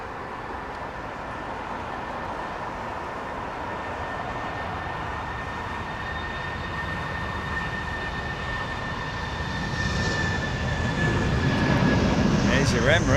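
Emirates jet airliner taking off at London Heathrow, a steady broad engine roar with a thin whine that swells louder toward the end, heard from a distance.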